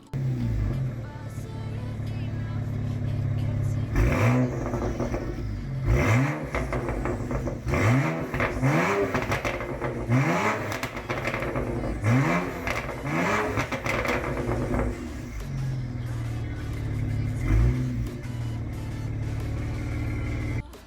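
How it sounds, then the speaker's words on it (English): A BMW 335i with a single-turbo build and added crackle-and-pop exhaust tuning revs repeatedly in a steady series of sharp, loud blips, with crackles and pops between them, recorded close up with no talk. "I added some crackle and pops because I needed the car to be a bit more obnoxious"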